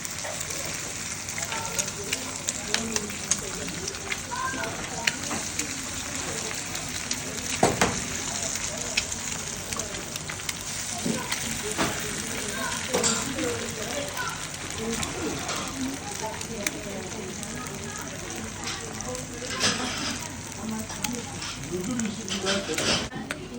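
Village eggs fry on sucuk slices in a pan, giving a steady crackling sizzle with frequent sharp pops, close and continuous throughout.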